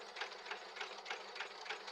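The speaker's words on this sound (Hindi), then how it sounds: "हमारी इंजन स्टार्ट होना शुरू हो गई है।" A small homemade steam engine runs with a fast, regular chuffing beat, about four puffs per second, faint and close with a hissy texture.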